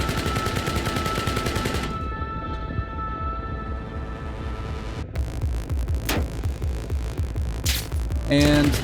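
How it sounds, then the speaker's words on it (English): Gunfire striking bulletproof glass in the video game Arma Reforger, with rapid repeated shots and sharp impacts over a steady engine-like drone, loud and close throughout. "that's the sound of the bulletproof glass finally being shot"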